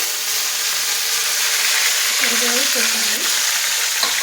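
Mustard seeds, cumin, curry leaves and coriander crackle in hot oil in a loud, continuous close sizzle, with a faint voice rising briefly in the middle.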